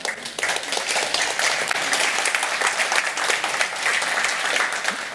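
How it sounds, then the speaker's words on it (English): An audience applauds after a conference talk, with sustained, dense clapping from a sizable crowd that stays steady throughout. "I'm just fishing for applause."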